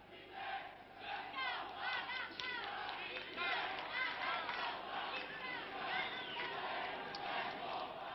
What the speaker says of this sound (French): je vous laisse exprès pousser votre slogan pendant quelques minutes